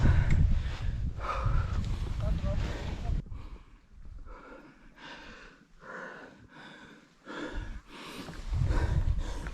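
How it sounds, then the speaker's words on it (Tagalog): A hiker breathes heavily and pants in rhythmic, close gasps on the grassland stretch of Mount Pulag's Ambangeg Trail at high altitude in thin air, with breaths coming in repeated bursts and brief pauses between them. "Grabe hingal ko."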